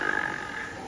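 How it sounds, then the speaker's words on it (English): An animatronic character at Disneyland Paris snores, a close, raspy grunting rumble that pulses quickly and then drags out into a long drawn breath. "Can you hear him snoring?"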